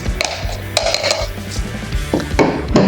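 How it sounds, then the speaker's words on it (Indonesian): Whole garlic cloves and shallots drop into a blender jar, a few hard clattering knocks and rattles close by, irregular and sharp. "Ini kalau mau dipotong-potong dulu boleh ya, tapi saya mau langsung aja dimasukkan ke dalam blender."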